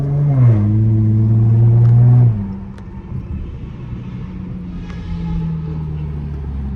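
A loud Dodge Charger Hellcat engine revs hard up close at night on an Atlanta drive, a deep sustained roar dropping sharply after about two seconds into a lower rumbling cruise.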